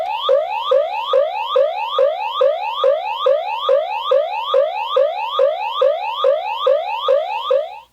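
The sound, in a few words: Hess toy ambulance third siren sound effect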